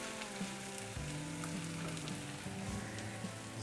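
Chicken liver sizzling and stewing in a covered pan, a steady close hiss of frying with no talk.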